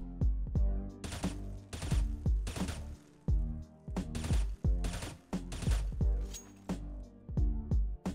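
Rapid gunfire through walls in CS:GO on the de_nuke map, loud sharp shots fired in quick bursts with brief pauses between volleys, with no talking.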